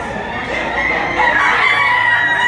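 A rooster crows loudly nearby at a gamefowl market, with other chickens clucking in the background.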